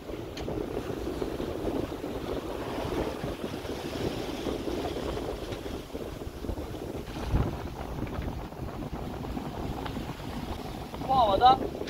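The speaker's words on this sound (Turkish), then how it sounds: "Tekne surf yapıyor." A sailboat surges under sail through Red Sea waves in strong wind, a steady broadband rush of wind buffeting the microphone and water hissing along the hull, with brief louder swells near the end.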